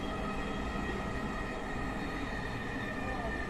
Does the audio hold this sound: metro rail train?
yes